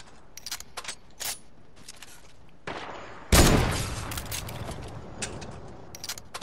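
Sentries fire infantry rifles in the Fortnite video game: scattered sharp shots and clicks, then a loud close burst with a rumbling tail, followed by more sporadic cracks.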